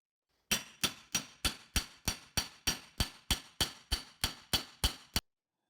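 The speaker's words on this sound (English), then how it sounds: "if I hit this with a hammer" About fifteen sharp metallic hammer strikes on a TIG weld in a steady, even rhythm, each ringing briefly before the next, close and clear with nothing else behind them.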